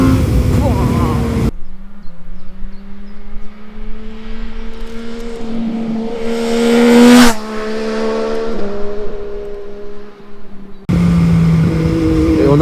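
An MV Agusta Brutale 800 motorcycle engine revs hard at full throttle, a loud, close howl climbing in pitch through the gears, with abrupt cuts at the start and end.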